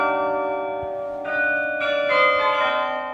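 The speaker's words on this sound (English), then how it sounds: "every time the carillon is played, it is a call to remembrance" Carillon bells ringing in memory of soldiers lost in the First World War, sustained resonant tones with several new strikes layering over one another, clear and moderately loud with no talking.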